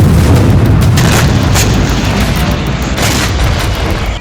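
Explosions from Russian attacks on Lviv, Ukraine, sound as a loud, heavy rumble with several sharp booms and bursts that slowly fade.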